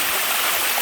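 Water pours steadily over the mineral-coated rocks of the Sticky Waterfalls natural spring, a close, even rush of flowing water with no gaps.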